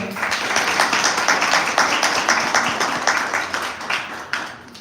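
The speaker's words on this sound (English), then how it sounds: "Please give them a round of applause." Audience applause for event sponsors at a poetry slam, a lively crowd clapping in a fairly close, rhythmic, dense stretch that keeps a steady level before easing off at the end.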